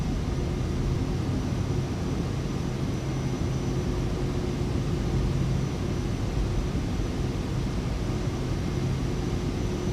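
A Cirrus Vision Jet takes off in Microsoft Flight Simulator, its single jet engine giving a steady, even roar of broad rushing noise with a faint whine, unchanging throughout.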